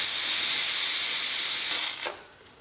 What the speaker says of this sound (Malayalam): അത് കഴിഞ്ഞ് ഞാൻ ബാക്കിയുള്ള എയർ കളയാണ്.